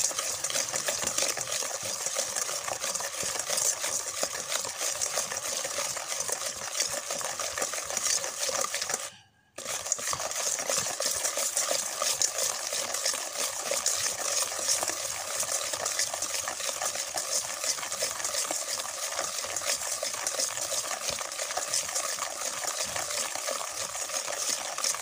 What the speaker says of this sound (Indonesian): Aduk terus ya.